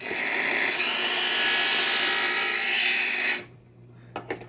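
An electric knife sharpener grinds a steel knife blade drawn through its first slot, giving a steady, loud, high-pitched whirring grind for about three seconds that stops abruptly, leaving a low motor hum and a few clicks.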